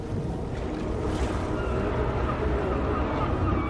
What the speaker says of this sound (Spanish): Las olas azotaban la costa y los árboles se partían.